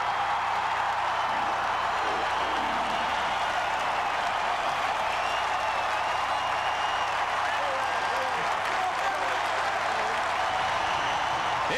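A huge home football crowd at Penn State's Beaver Stadium applauding and roaring as a steady, dense wall of far-off cheering.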